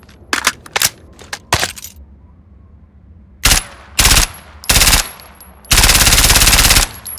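Full-auto bursts from an M4A1 chambered in 9mm, several short volleys, then a pause, then three separate bursts and a final sustained two-second string of rapid fire, loud and close.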